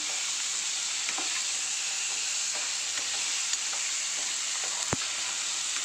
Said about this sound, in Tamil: நல்லா ரெண்டு நிமிஷம் வதக்கினா போதும்